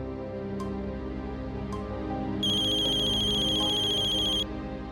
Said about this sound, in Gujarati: હવે કોનો ફોન છે?